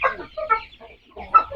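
Tiger-breed chickens cluck in a short burst of a few close, uneven calls with brief gaps, the flock kept on a small poultry farm.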